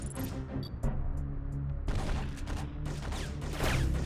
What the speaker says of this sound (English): Oh my gosh, I'm getting sniped.